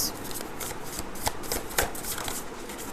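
Tarot cards being shuffled by hand in a quiet room: a continuous papery riffle and slide with a few sharper snaps, close and fairly soft, with no talking.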